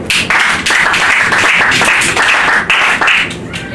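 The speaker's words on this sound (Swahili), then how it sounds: "Pigeni King makofi." Church congregation clapping together, a loud continuous patter of many hands with brief dips, no talk over it.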